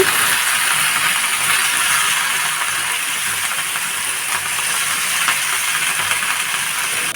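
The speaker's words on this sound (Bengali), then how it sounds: "সব কিছু ভাজা হয়ে গেছে এখন শাক দিয়ে দিচ্ছি" Loud, steady sizzling hiss of greens frying in a hot pan, constant and close with faint crackles throughout.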